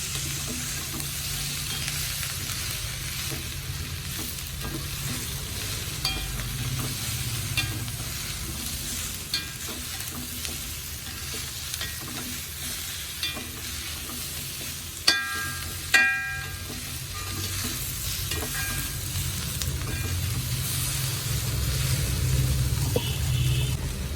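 Sliced drumsticks sizzling with onions in a hot pan for a Kerala drumstick egg thoran, a steady frying hiss with occasional scrapes and clinks of stirring, close and continuous.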